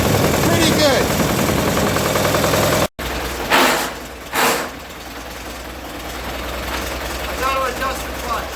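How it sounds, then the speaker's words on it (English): Fordson Major E27N tractor engine cranked over and then running, a loud rough rumble that cuts out briefly before catching again with a couple of surges, then settling into a steady idle. "time now to crank this thing up and see if we can get it tuned up."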